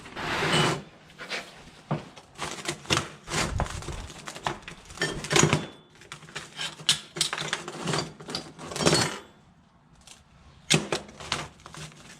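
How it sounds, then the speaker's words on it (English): Edges are ground off a large forge-welded Damascus steel billet for a puukko knife in a blacksmith's shop, heard as close, harsh abrasive passes in repeated bursts with brief pauses, no talking. "I'm just going to grind off these edges before we start cleaning up the surfaces to make a billet here"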